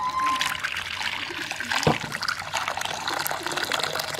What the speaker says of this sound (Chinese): 盆里来点生抽、姜粉、花椒粉、盐、开水